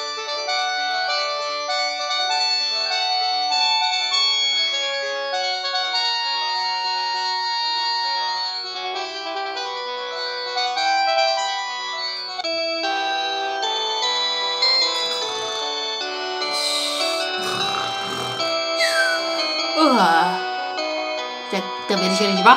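A phone ringtone for an incoming call plays a bright, tinkling, bell-like melody that repeats steadily. Partway through, the tone thickens and warbling, voice-like sounds join the ringing.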